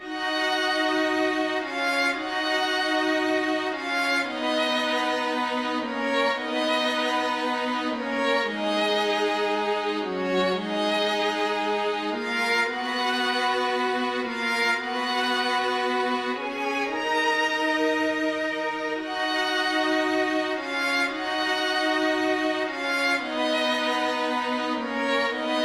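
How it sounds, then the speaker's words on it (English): An FL Studio string intro of violin session and warm cello session plays smooth sustained chords that shift slowly and steadily, lush and continuous, with no voices. "So I'm using the violin session,"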